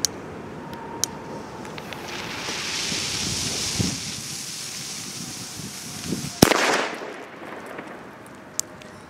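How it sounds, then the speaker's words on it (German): Weco cubic cannon-cracker firecrackers going off outdoors: several sharp isolated bangs over steady wind noise, with one especially loud blast followed by a brief rumble. "Kubischer Kanonenschlag von Weco."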